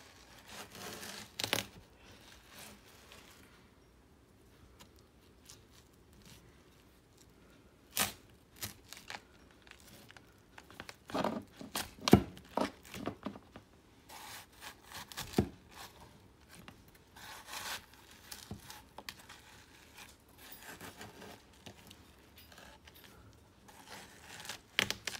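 Fruit being cut with a kitchen gadget: faint scraping and rasping cuts, with scattered sharper snaps and crunches at irregular intervals, and no talking.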